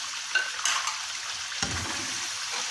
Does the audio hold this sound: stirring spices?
yes